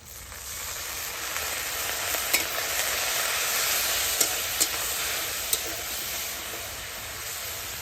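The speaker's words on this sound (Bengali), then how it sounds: "একটু জল দিয়ে আমি মশলাটাকে ভালো করে কষিয়ে নেব।" A spice paste of Kashmiri red chili powder, black pepper, salt and a splash of water sizzles and hisses steadily while being stirred in a pan, with a few sharp clicks of the spoon against the pan.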